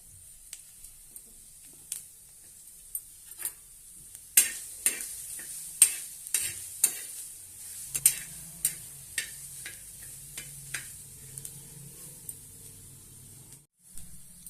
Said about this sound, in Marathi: आता आपण 3 हिरव्या मिरच्या घेतल्या आहेत, यामध्येच आपल्याला त्या भाजून घ्यायच्या।